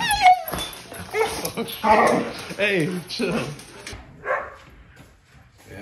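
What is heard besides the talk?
dog whimpering and barking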